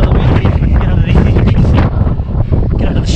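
Strong wind buffets the microphone at a cold, windy surf break, a constant loud low rumble running through the whole stretch with gusty swells, and a voice faintly present underneath.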